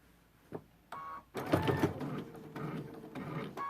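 A sewing machine stitches a quilted trivet in short bursts, a close mechanical whirring that starts, stops and restarts as it backs up a single stitch, quiet between runs.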